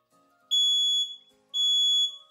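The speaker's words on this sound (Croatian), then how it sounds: "sad će se oglasiti alarm" A 9V battery smoke detector sounds two loud, piercing high-pitched beeps, each about half a second long, with a brief gap between them.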